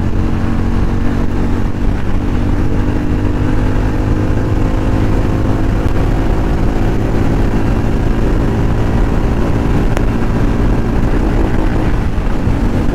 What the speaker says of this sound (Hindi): चार गियर में देखो कितना अच्छा पिकअप पकड़ लिया।